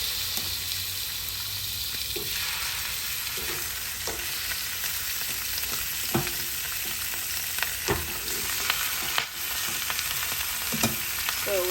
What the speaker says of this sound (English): just going to add them, place it one after the other to the hot pan